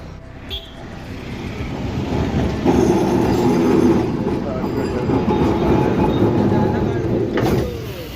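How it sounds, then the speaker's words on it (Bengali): A Kolkata tram rumbles in along the rails, a low rolling drone swelling louder and grinding steadily before easing off near the end. "সো ফাইনালি আমাদের সাইড থেকে হচ্ছে ট্রামটা আসতেছে"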